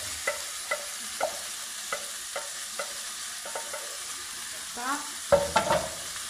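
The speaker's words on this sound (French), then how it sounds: "on va remuer notre wok" Noodles and shrimp tossed in colombo marinade are stirred in a wok, with a series of soft utensil scrapes and taps at a steady pace, then a burst of louder sizzling and clattering near the end. Close and fairly quiet, with no talking.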